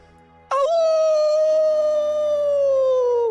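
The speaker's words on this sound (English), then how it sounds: "I hear her howl echoed by two wild dogs." A dog in a video game lets out a single loud, sustained howl that starts abruptly and slowly falls in pitch, holding for about three seconds over a faint background hum.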